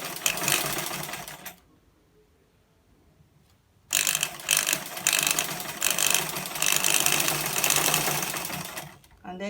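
A sewing machine stitching fabric for a simple kids' top, heard as close, loud, fast mechanical whirring and clatter in two runs separated by a quiet pause, with a person talking.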